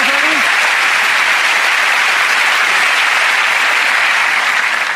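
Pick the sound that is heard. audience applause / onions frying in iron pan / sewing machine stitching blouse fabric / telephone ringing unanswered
audience applause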